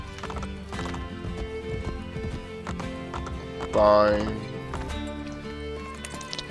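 Rhythmic hoofbeats of a galloping horse over game music in Assassin's Creed Brotherhood, a horse whinnies loudly midway, and someone briefly speaks.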